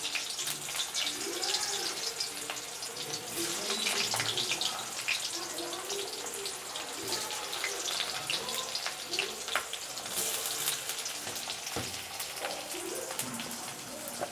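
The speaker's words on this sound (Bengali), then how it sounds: "তেল গরম হয়ে গেছে আমি এতে কালো জিরে ফোড়ন দিয়ে দিলাম তারপরে এতে আমি পেঁয়াজ কুচি দিয়ে দিচ্ছি" Chopped onions dropped into hot oil with black cumin seeds, giving a dense, crackling sizzle and spatter that fades into a softer fry, close and steady without talk.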